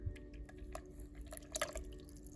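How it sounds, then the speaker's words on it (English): Clam juice pours into a blender pitcher over diced potatoes, onions and bacon, a soft liquid trickle and dripping splash lasting a couple of seconds at close range. "and I'll pour in my clam juice"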